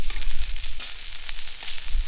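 Meat, lamb chops and sausages sizzle over a campfire while camping in Western Australia's goldfields, a steady close crackling fry with no talk.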